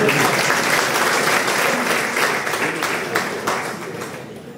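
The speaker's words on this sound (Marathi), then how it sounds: "जोरदार टाळ्या यांच्यासाठी" An audience at a university professional development program claps, a dense, sustained burst of applause that tapers off slightly toward the end.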